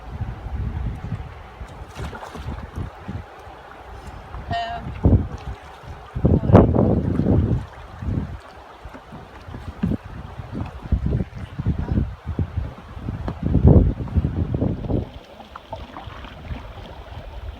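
Canoe ferry paddling across a river on the Appalachian Trail in Maine, wind buffeting the microphone with irregular thumps and splashy water sounds, the paddling strokes faint and partly masked.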